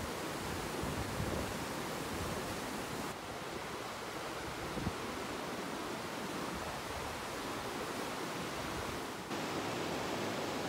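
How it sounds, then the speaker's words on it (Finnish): Loud, continuous roar of rushing river rapids, dense and unbroken throughout, close by, with no voices audible over it. "Tää kohina on niin kova, että todennäköisesti mun ääni ei kuulu tässä videolla ollenkaan."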